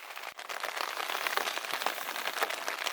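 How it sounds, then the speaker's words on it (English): Light, steady spring rain falling during solo camping in Algonquin, a dense continuous patter close by, even in level with no letup. "it has not stopped raining once, all day, all night."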